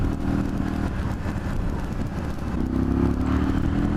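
A truck rolls along the road with a continuous, loud engine drone and rumble heard up close, the tone rising slightly toward the end, no voices.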